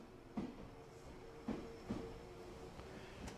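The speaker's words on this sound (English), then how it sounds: "The rusted train left the station" A rusted train pulls out of a station in a video game, a low steady rumble with a few soft clanks and knocks at irregular intervals, faint and without talk.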